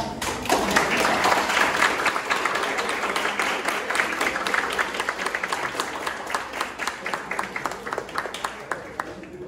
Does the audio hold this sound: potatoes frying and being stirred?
no